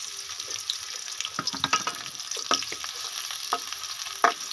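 Onion and green chili added to hot ghee, a steady sizzle with scattered crackles and a few utensil clicks close by.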